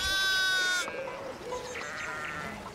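A single loud, close sheep bleat in the video game Pentiment, a wavering nasal cry lasting under a second, followed by quieter ambient game sounds.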